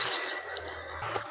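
Water spilling over from a hillside well and running down, a steady trickling, dripping flow at low level, close by and alone.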